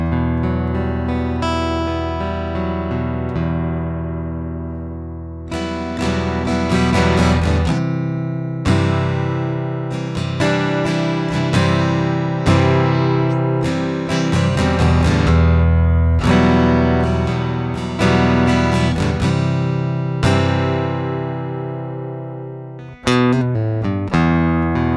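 An acoustic guitar played through a piezo pickup and preamp rings out strummed chords and picked notes, bright and direct, loud and close with sustained ringing between strums.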